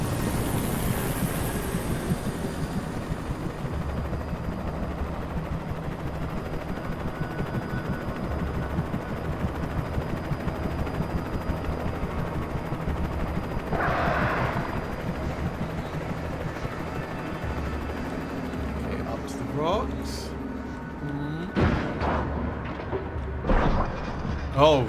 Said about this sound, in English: the birds just took out the helicopter. It's going down.